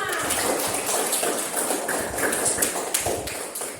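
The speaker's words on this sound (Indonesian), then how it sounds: "Tepuk tangan untuk kita semua." A classroom group claps hands together, a dense, close patter of many quick claps running steadily throughout.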